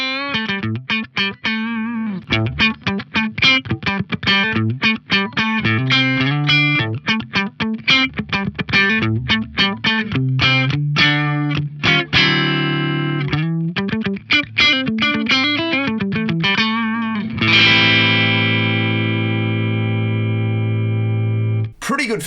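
A funky single-note electric guitar line played through an Origin Effects Cali76 Compact compressor, with quick choppy muted plucks and slides giving way to a long sustained chord, loud, close and evenly squeezed.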